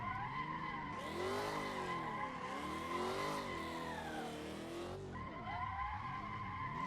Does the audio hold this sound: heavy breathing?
no